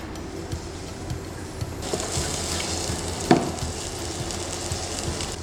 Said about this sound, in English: Now we want to saute the onion. Just a little oil.